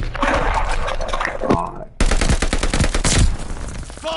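Rapid bursts of video game gunfire crackle loud and close, automatic volleys with a brief gap midway, while voices talk over the shooting.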